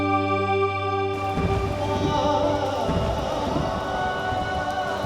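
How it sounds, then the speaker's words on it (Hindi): Heavy rain pours steadily on a dark night in a small mountain village, a dense continuous hiss with a low sustained tone underneath at first, loud and unbroken throughout. "एक छोटे से गांव की एक अंधेरी रात में बारिश पूरे जोर पर थी।"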